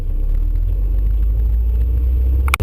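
A manual-transmission car engine hums with a steady low rumble from inside the cabin, briefly blipping during a heel-toe downshift near the end.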